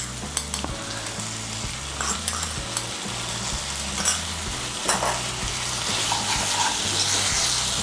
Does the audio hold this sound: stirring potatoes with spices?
yes